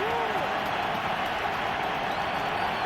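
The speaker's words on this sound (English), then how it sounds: "Bronco crowd turns it up a notch" Broad, sustained roar of a Denver Broncos home stadium crowd at an NFL game against the Lions, with a commentator talking over the noise.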